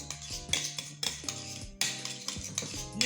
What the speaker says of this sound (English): after mixing the milk